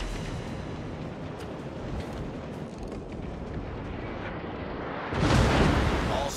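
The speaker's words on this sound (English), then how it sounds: "The ship is on fire!" A burning warship in the World of Warships naval battle game rumbles with dense, continuous booms and artillery-like blasts, swelling into a louder, heavier burst near the end.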